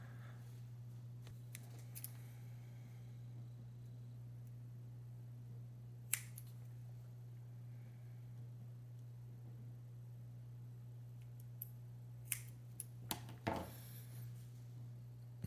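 Scissors trimming during a 75% mechanical keyboard build, a few faint, sparse snips and clicks over a steady low hum, with no talking.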